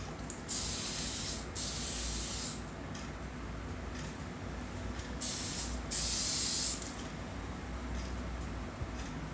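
Hairspray sprayed onto two old wigs during drag styling, heard as three or four separate hissing bursts of a couple of seconds each, close and fairly loud, with quiet pauses between.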